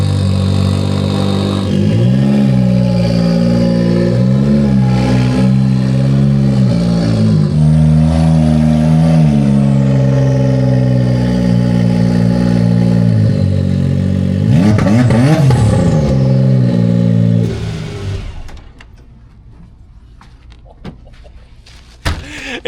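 A Can-Am Maverick R side-by-side revs loudly and close as it pulls out, its engine note rising and falling in repeated surges before dropping away to near quiet.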